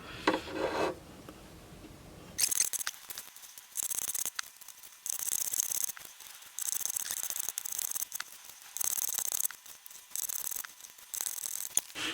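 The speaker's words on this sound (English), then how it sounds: "I'll just rub gently on the edges and on the fretboard and polish the fretboard with 2000, maybe 2500 grit sandpaper" Fine 2000 to 2500 grit sandpaper rubs the fret edges and fretboard of a koa wood guitar in short, even back-and-forth strokes, close and fairly quiet, with brief gaps between passes and no talking.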